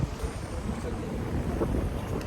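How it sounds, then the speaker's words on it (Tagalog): Steady sand-laden wind rushes and buffets against the microphone, a constant low roar with no voices. "Hangin siya na may buhangin."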